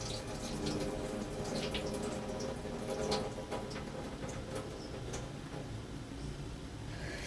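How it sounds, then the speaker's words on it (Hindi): Soaked rice tipped into a pot of boiling water for jaggery sweet rice, giving a steady, quiet hiss and bubbling wash with faint splashes throughout. "अब हम इसमें चावल डाल देंगे जो भिगा के रखे हमने।"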